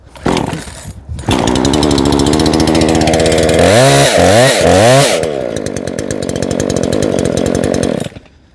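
A small two-stroke tool engine, cleared of excess fuel after flooding, sputters and catches, then roars steadily with a few revving surges before cutting off abruptly; loud and close.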